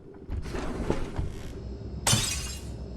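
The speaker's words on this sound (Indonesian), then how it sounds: "Ada suara piring pecah guys." A plate shatters in the horror game Who's at the Door, a loud sharp crash of breaking crockery near 2 seconds, following an earlier burst of broken-glass noise over a low rumbling ambience.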